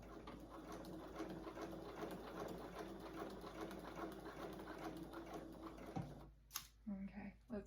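A sewing machine runs steadily while stitching quilt blocks under the presser foot, with a continuous mechanical whir for about six seconds before stopping, followed by a few brief handling clicks and rustles.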